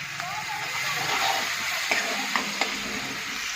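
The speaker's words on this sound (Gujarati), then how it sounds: "પહેલાં શાક વઘારી કાઢું ને એક બાજુ ખીચડી મૂકી દઉં." Vegetables for a Gujarati shaak are tempered in hot oil, giving a steady, close sizzle with a few scraping stirring clicks throughout.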